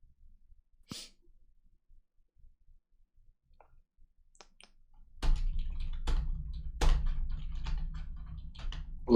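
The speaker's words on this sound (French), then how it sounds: "Doucement quand tu tapes sur ton clavier" Quiet at first, with a sharp sneeze-like burst and a few faint clicks, then rapid close computer keyboard typing with irregular clacks over a low hum, during an esports event opening.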